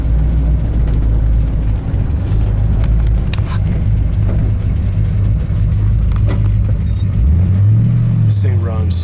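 A 1962 Chevrolet Bel Air engine running while the car drives, a loud steady low rumble inside the cabin with a rising rev near the end and someone talking over it.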